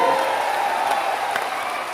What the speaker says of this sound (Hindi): जोर से ताली बजाओ अनिरुद्ध जी के लिए